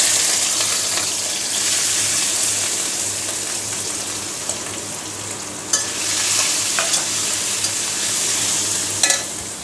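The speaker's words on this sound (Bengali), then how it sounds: "আর একটু লবণ দিয়ে প্রথমে এটাকে লাল করে ভেজে নেব" Watermelon rind fries in hot oil in a wok with chickpeas, a steady loud sizzle running throughout with a few scraping stirs of a spatula near the end.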